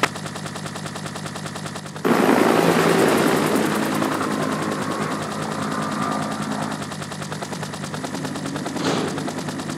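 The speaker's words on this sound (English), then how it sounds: "Nikolai beat us to the chopper." A helicopter in the Resident Evil 3 Nemesis video game on GameCube, a loud, dense rotor throb and roar that bursts in suddenly after a quieter stretch and holds steadily to the end.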